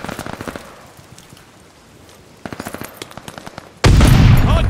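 Bursts of rapid gunfire from a first-person shooter match fought over a hardpoint objective, clustered in quick rattling volleys that pause, resume, then give way to a loud sustained roar near the end.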